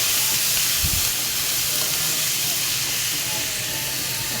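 Ginger garlic paste hits a hot pan while a chicken and egg curry is being cooked, giving a loud, steady sizzling hiss that holds for the whole stretch with no voices.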